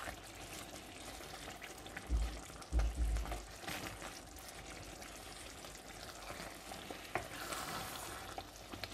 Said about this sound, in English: In it goes. And we give it a stir.